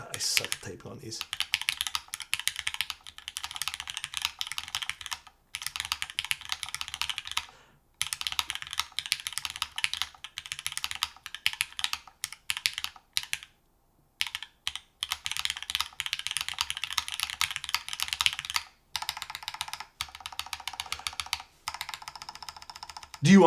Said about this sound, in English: God, I suck at typing on these.